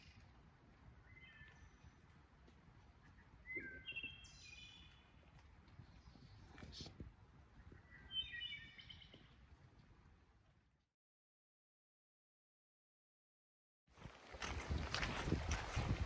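Birds sing on a foggy, rainy, windy morning on the Appalachian Trail, with faint, scattered chirps and short trills over soft background noise, then a brief silence and a sudden loud rush of noise at the end.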